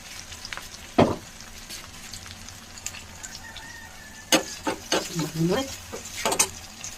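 Onions and chillies crackle and hiss in a frying pan as a spoon stirs them, with several sharp scrapes and clacks against the pan over a quiet, steady sizzle.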